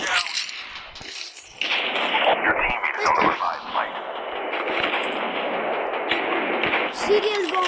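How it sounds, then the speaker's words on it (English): Bombing explosions in a Call of Duty battle royale match, a run of booming blasts and rumbling gunfire, with a player talking over the action. "Serial bomb, what the heck, that's new."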